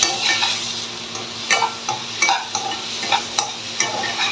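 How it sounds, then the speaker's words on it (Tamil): Drumstick pieces and potato stirred into a hot frying pan for a Tamil gravy, with a steady sizzle under repeated scraping strokes of a utensil, each a short clack against the pan. "இப்போ இதில் கட் பண்ணி வச்சுருக்க முருங்கைக்காய் அண்டு பொட்டேட்டோ, எல்லாம் போட்டு கொஞ்சம் லைட்டாக மிக்ஸ் பண்ணி விட்டுக்கோங்க."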